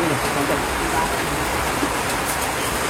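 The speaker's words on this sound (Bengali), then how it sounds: "কি বৃষ্টি রে বৃষ্টি রে হাই রে বৃষ্টি কি অবস্থা" Heavy rain pours down in a Bangladeshi village at night, a dense, constant hiss of water drumming on surfaces that stays loud and unbroken throughout.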